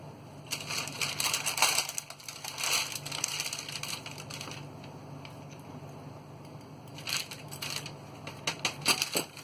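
Hardened homemade hard candy is snapped and broken like glass in scattered bursts of crisp cracking and splintering, quiet overall with pauses between clusters, and no voices.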